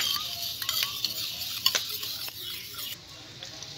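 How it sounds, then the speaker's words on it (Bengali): Spoon stirring and mixing egg chilli with tomato sauce in a pan, a close, soft scraping with light clinks of utensil against the pan at a steady pace and no talk. "ভালো করে মিশিয়ে নেব।"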